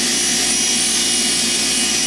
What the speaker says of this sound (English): I go around and polish the whole shaft.